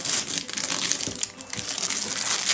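Gift wrapping paper torn open and crumpled while Christmas presents are unwrapped, a continuous close, loud crinkling and ripping that runs through the whole stretch with brief dips.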